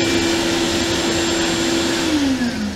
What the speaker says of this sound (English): Vacuum's running.